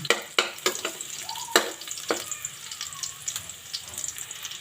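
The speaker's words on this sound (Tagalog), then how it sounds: "ginigisa ko muna siya para maalis yung lansa ng chicken" Chicken sautés in a pan for a lemon chicken adobo, crackling in a steady sizzle broken by several sharp utensil clinks and scraping stirs, loudest at the start and then settling into a softer fry.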